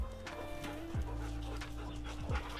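Several dogs pant together in an enclosed run, a steady, breathy huffing up close mixed with low electronic hum and a couple of brief squeaky tones.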